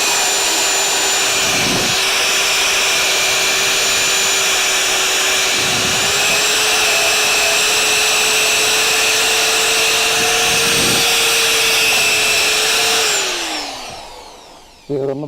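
A wire wheel spun by a drill scrubs metal while a leaf spring perch is mounted on a crew cab Charger, a loud continuous close whine with a harsh abrasive hiss and a few brief dips before winding down.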